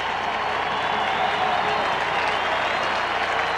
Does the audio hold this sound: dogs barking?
no